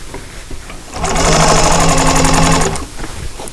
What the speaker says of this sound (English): Like I said, this fabric is a dream to sew with.